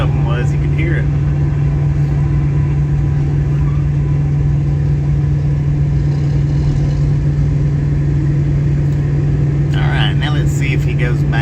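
A BNSF diesel locomotive's engine runs with a steady low hum and rumble at Friona, Texas, constant throughout, with people talking over it.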